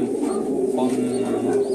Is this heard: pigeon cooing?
yes